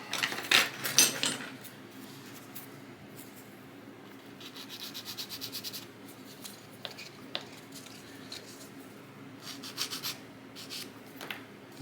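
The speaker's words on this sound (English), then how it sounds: "let's go ahead and get that flash cleaned off" Close, intermittent scraping and rubbing strokes as flash is cleaned off the plastic hull of a Trumpeter 1/350 USS Lexington CV-2 model kit, with short bursts and pauses in a quiet room.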